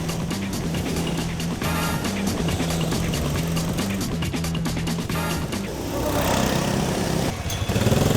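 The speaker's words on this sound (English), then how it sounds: "because these are gasoline powered, they go a lot faster than a lot of other go-karts" Gasoline-powered go-kart engines drone loudly and continuously on an indoor quarter-mile track, a buzzing near revving motor that surges and shifts toward the end.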